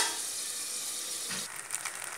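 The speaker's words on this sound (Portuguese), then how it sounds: "Agora vamos deixar refogar, porque esse caldinho vai estar cozinhando ela." Pork chop sautéing in broth in a pan, giving a steady, fairly loud sizzle and hiss that runs throughout, easing slightly toward the end.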